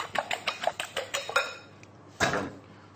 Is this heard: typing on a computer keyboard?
no